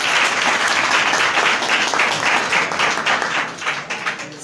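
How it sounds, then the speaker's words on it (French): Audience at a student election debate for the IPS student director post applauding loudly and steadily, dense clapping throughout that tapers slightly toward the end. "On acclame très fort pour elle"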